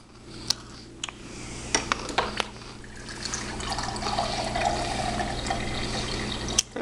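Water running into a container while someone walks around, a steady rising flow of liquid after a few clicks and knocks, fairly close with no talking.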